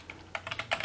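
A computer keyboard rattles through a command being entered on a Cisco 3560CX switch console, a quick burst of close, crisp keystrokes under a second long with no talk.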